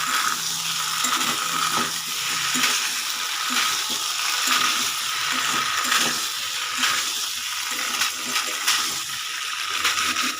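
Potatoes with tomato ketchup being stirred in a hot pan, a continuous sizzle with a rhythmic scraping of the spoon against the metal, close and fairly loud, with no voices.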